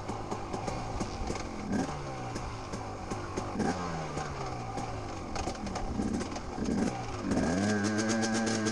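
A dirt bike engine held at full throttle during a hare scramble race, loud and close, with a buzzing, revving drone whose pitch rises and falls through repeated gear changes and climbs, continuous throughout.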